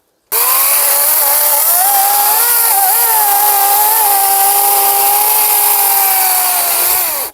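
A chainsaw starts and runs at a steady high rev, its loud buzzing whine wavering slightly as it bites through a branch of a 40-year-old apple tree, close by with no talking.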